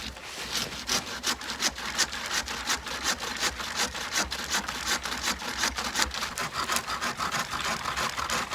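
Steady back-and-forth sawing through a leaning tree cut for a bushcraft shelter, fast regular strokes of the blade in wood going on without a break, close and fairly loud, with no talking.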